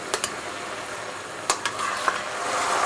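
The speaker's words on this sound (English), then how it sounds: "you want to stir continuously, otherwise the coconut cream is going to burn" Thick coconut cream bubbles and sizzles in a pot while being made into homemade coconut oil. A spoon scrapes through it in a few quick strokes over a continuous hissing cook.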